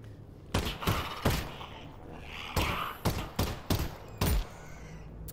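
About eight sharp gunshots ring out in the Half-Life: Alyx video game, fired in uneven clusters, close and punchy, over a quiet background.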